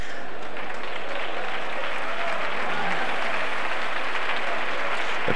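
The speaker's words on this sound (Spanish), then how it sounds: "El público está muy animado, esperamos que aplaudan así durante todo el campeonato" Dense, steady applause from a crowd at the 2009 Spanish doma vaquera horse riding championship, loud and continuous for the whole stretch with no break.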